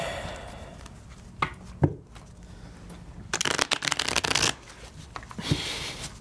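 Deck of Pandemic Legacy Season 2 board game cards being shuffled by hand: a couple of quick riffles and taps, then a dense burst of rapid riffle-shuffle clatter, and a final short flurry, close and crisp.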